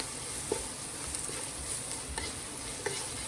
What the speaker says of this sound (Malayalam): എണ്ണയൊന്ന് ചൂടായി കഴിയുമ്പോൾ 3 സവാള ചെറുതായിട്ട് അരിഞ്ഞ് നമുക്കിതിലേക്ക് ചേർത്ത് കൊടുക്കാം.